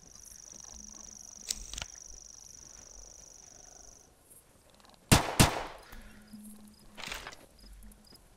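Venom rifle shots in Carnivores Fallen Kings, set in an everglades hunt: two sharp loud cracks close together midway, with a fainter shot before them, over an ambient outdoor background.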